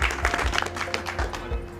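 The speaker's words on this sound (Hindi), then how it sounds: "ये बात जब आप कह रहे हैं तो खूब तालियां भी बजा रहे हैं लोग" An audience claps in applause at a political speech in Ramnagar, a dense, steady patter of many hands filling the short stretch at moderate volume, with no clear voices over it.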